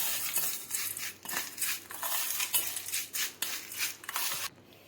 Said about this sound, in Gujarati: મેગી મસાલો છે તે નાખીશું અને તેને બરાબર મિક્સ કરી લઈશું